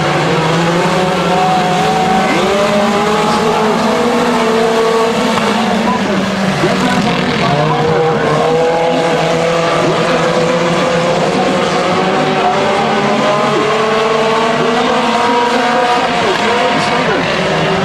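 Stock race cars roar around a speedway in a close three-way fight for the lead, engines droning loudly and continuously with pitch sweeps as they pass and corner, while a commentator talks over the noise.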